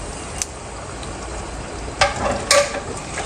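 Ginger garlic paste sizzles in ghee and oil along with chicken in a pot while it is stirred, giving a steady frying hiss broken by two brief scraping clinks near the end.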